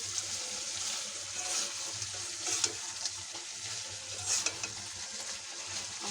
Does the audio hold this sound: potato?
yes